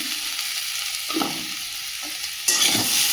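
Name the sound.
Kashmiri chilli powder and salt sautéing in a pan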